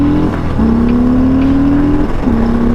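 A 2021 Harley-Davidson Sport Glide V-twin motorcycle accelerates hard and close, its engine note climbing steadily through two gears with brief dips at the shifts, loud and continuous with wind noise and no talking.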